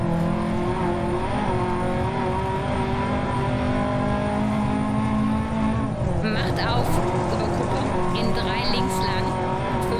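Rally car in Dirt Rally 2.0 on a Poland stage, its engine droning steadily at high revs while the car drifts over gravel, with a brief tire scrabble and shift of pitch partway through; a co-driver's voice calls pace notes underneath.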